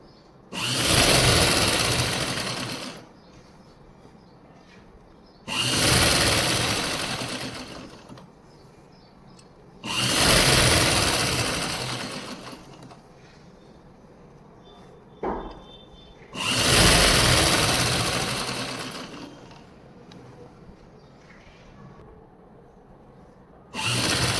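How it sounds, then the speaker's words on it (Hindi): A sewing machine stitches stretched elastic onto Afghani trousers, running in four long, steady bursts of about three seconds each, separated by short quiet pauses, with no talking. "देखो पूरे लास्टिक को ऐसे खींचते हुए फिर सिलाई लगा देंगे।"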